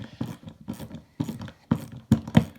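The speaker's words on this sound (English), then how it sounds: "Where with the Leatherman ratcheting driver," A Leatherman ratcheting bit driver being turned, giving close rhythmic bursts of ratchet clicks in five or six groups with brief pauses between them.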